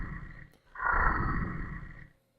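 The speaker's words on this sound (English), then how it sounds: "was for a bellowing sound like this" Deep bellowing growl of a large creature, a single sustained roar lasting over a second after a short breath-like lead-in, loud and close with no talk.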